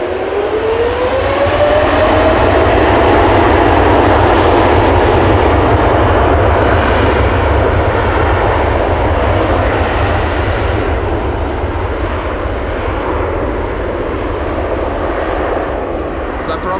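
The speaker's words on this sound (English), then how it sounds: "This is KLM flight 877 to Mumbai in India. 787-10 Dreamliner" A KLM Boeing 787-10 Dreamliner, registration PH-BKM, departs Amsterdam Schiphol on a flight to Mumbai, its engines roaring loud and steady as a rising whine sweeps upward, the broad jet noise filling the whole stretch.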